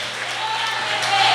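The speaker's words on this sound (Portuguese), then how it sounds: "Aplaude, vai aplaudindo, vai." A church congregation applauding during a worship service: steady, dense clapping throughout, moderately loud, with voices faintly mixed in.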